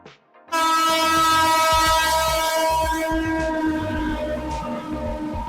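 The Kalka Netaji Mail express train arrives at a station, sounding a long, loud horn blast over the deep, rumbling clatter of its wheels and carriages.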